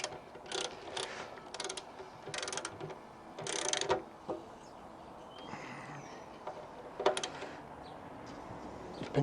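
A ratchet tightens two T30 side bolts on a 2016 BMW S1000R motorcycle during a clutch cable change, in short bursts of rapid clicking separated by pauses, close and fairly loud.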